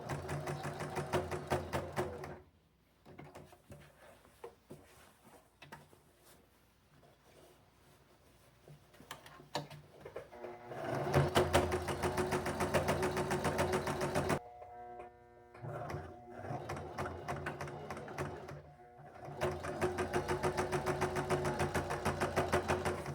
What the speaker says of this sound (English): now we'll top stitch these 3 sides